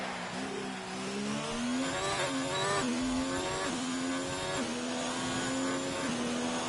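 A Formula 1 car engine from the F1 2019 racing game at the Azerbaijan Grand Prix screams steadily, rising in pitch through each gear and dropping at every upshift, several shifts in a row, fairly close and alone.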